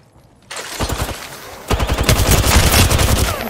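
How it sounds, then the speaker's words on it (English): Rapid bursts of automatic gunfire from Apex Legends, loud and close: a short volley, then a denser, heavier stretch of overlapping shots with no talking. "Shots."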